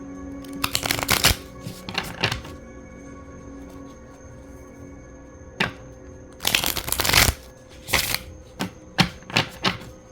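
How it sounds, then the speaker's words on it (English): A deck of tarot cards being shuffled by hand in a few quick riffling bursts with short pauses, followed by lighter separate card taps and flicks, close and clear against a quiet room. "bear with me a moment while I shuffle"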